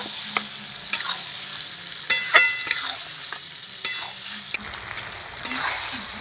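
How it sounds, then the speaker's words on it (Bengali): Mutton pieces being sautéed in a hot pan, giving a continuous bright sizzle with intermittent clattering stirs and scrapes of a spatula, close and fairly loud, with no talking. "মাংসটা আমি এইভাবে কষিয়ে নেব"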